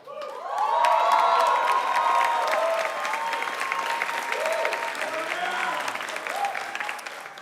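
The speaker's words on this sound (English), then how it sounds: "This is the most applause Iraq has ever gotten." A comedy show audience breaks into loud applause mixed with cheers and whoops, swelling quickly and then holding steady.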